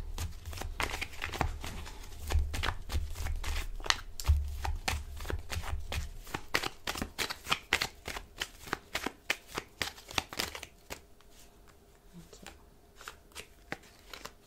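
Tarot cards are shuffled by hand in quick, crisp riffling bursts, close and clear, the rapid papery flicks continuing for many seconds before thinning into a few separate slaps, with no talk.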